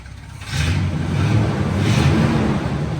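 A 1971 Chevrolet Suburban engine with factory exhaust idles low, then revs up and holds a throaty, rumbling drone close by, with a second swell of revving near the end.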